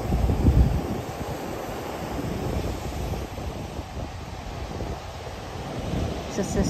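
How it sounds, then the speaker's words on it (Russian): Storm waves surge and splash against the rocky shore at Bajamar, Tenerife, a continuous roaring wash mixed with heavy wind buffeting the microphone, loud and close throughout. "Вот эта вода выплескивается, когда сильный шторм, аж сюда"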